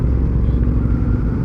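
A Suzuki Hayabusa Gen3 motorcycle with its stock exhaust mufflers removed gives a dense, steady low rumble at close range, unbroken for the whole short stretch.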